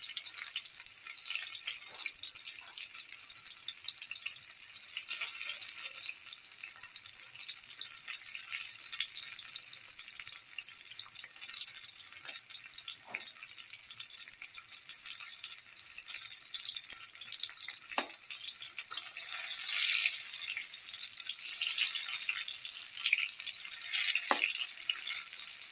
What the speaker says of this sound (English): Let it fry by turning from side to side.